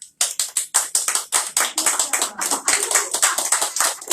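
A small group claps with a steady rhythm of sharp, close hand claps, with light cheering mixed in, during a casual home cooking session with Grandma Tanner making skillet apples.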